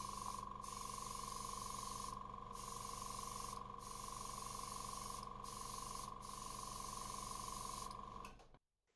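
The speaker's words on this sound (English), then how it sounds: "we'll start off with a full coat of white to cover the lead holes and the burn marks from the building process" White paint sprayed in one continuous, steady hiss over a handmade two-piece fishing lure, with a faint constant tone underneath, running for about eight seconds and then cutting off abruptly.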